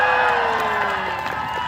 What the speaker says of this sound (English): you need to cheer for your knight